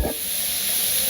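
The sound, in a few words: spinach greens frying in oil in a pan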